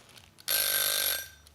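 A kitchen timer rings with a single loud, bright mechanical bell-like buzz lasting under a second, close and alone, before cutting off.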